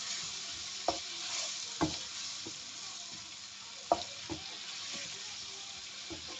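Pumpkin pieces cook down in a frying pan over high heat, giving a steady close sizzle broken by a few sharp clinks and scrapes of stirring, with no voices.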